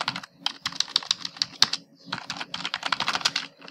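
Steady bursts of computer keyboard typing while code is written, close and clear, with uneven rhythms of rapid keystrokes and brief pauses between runs, no voice over it.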